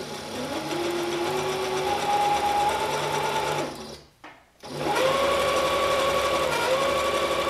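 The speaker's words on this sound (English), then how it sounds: "So we're just focusing on sewing down the leg." A sewing machine runs steadily along the 5/8-inch inner leg seam of a pajama pant, a continuous motor whir that briefly stops mid-way, then resumes at full speed, close and loud with no talk.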